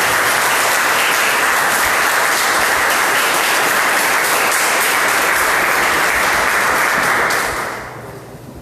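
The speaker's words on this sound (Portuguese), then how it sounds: "Dê um aplauso a Jesus e Deus." A church congregation applauds during a Portuguese-language worship service, dense steady clapping filling the room for about seven seconds before tapering off sharply at the end.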